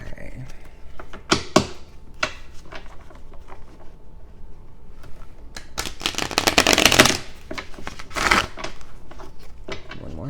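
Tarot cards are shuffled in quick riffling bursts, several separate rustling flurries close up, with soft speech and handling noise between them.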